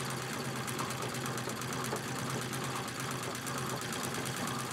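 A sewing machine free-motion quilting feather patterns on gold fabric, a steady close mechanical whir that runs continuously and evenly at moderate loudness with no voices.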